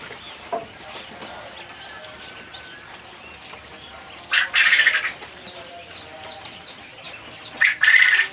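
Crossbred quails on a breeding farm make soft chirps over a steady background hum, and two loud bursts of wing flapping and squawking break out in the middle and at the end.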